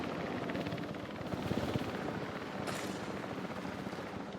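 A helicopter in the video game Jurassic World Evolution 3 gives off a low, continuous rotor drone with a faint rhythmic chop, fairly quiet and steady, plus a brief airy swell partway through.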